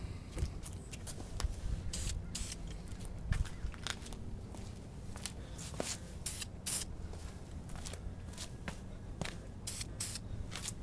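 Short hissing bursts of aerosol clear lacquer sprayed in thin coats onto an Xbox 360 controller face, repeated at irregular intervals over a low steady background hum.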